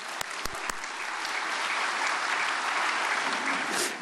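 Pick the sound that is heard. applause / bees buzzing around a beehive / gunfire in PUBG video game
applause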